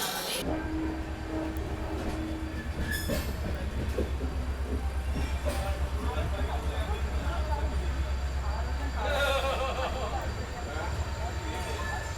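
A train rumbles steadily with a low continuous drone and clattering wheels, people talking over it amid station ambience at Kacheguda railway station platform 3, on the inaugural run of the 17615 Kacheguda-Tuticorin express.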